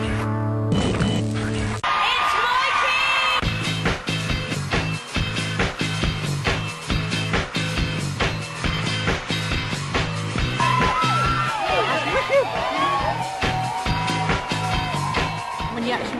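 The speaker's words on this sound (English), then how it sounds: "When you actually walk down, you see how many people are cheering" A large crowd cheers and yells loudly and continuously as a Big Brother housemate walks out, the roar staying dense throughout with music layered in.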